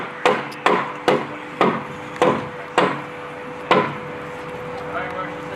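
A small hammer taps on a knee brace, giving seven sharp, evenly spaced knocks close up, with a faint hum behind them.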